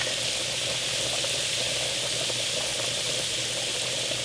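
Chopped leeks, carrot, onion, celery and garlic cook in bacon grease in a pot, giving a steady, even sizzle and bubbling hiss with no talk.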